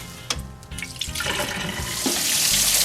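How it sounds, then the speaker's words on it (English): Hot water runs hard over small screws in a strainer in a sink, a close rushing splash that builds steadily louder and fuller, with no talk. "We're going to rinse them with lots of hot water over the strainer."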